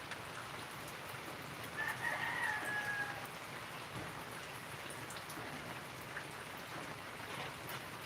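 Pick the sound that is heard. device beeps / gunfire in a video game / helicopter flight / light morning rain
light morning rain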